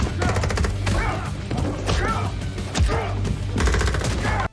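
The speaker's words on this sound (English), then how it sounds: "we're seeing an automatic rifle of some kind shoot around the room" Automatic rifle fire sprays around a room in an action scene from the movie Nobody: rapid, sharp bursts of gunshots repeat in quick succession over several seconds.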